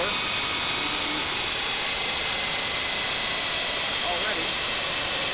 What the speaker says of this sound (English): it sounds like it might be spinning a lot quicker than it was before